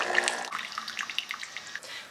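Hot water runs from a Nespresso Vertuo Plus coffee machine during cleaning, a steady trickling pour with small splashes and drips into a container.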